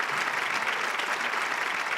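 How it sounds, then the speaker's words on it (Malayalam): Studio audience on a Malayalam TV game show breaking into steady, dense applause, a continuous wash of many hands clapping at even loudness throughout, with no voices standing out. "പോരട്ടെ, കൈയ്യടി പോരട്ടെ."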